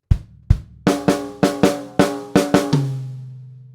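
Drum kit rhythm played with a straight feel, two kick thumps leading into a run of snare and tom hits, nine crisp strikes close up, finishing on a sustained ringing tom.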